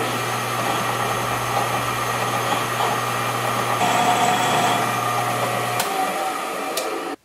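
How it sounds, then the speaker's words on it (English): A power drill whines steadily at close range drilling the steel end of a flatter tool, its motor pitch shifting midway, then cuts off near the end, leaving only a faint hum. "now what I need to do is drill the end of my flatter tool"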